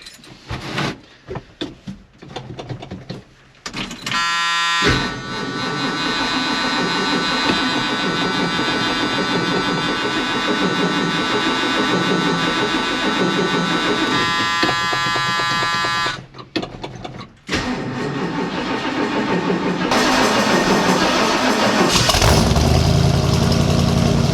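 Old 460 Ford Camper Special engine cold-starting: a brief crank, then a loud, steady idle that runs on with a short dip partway and a rougher, louder stretch near the end, no talking.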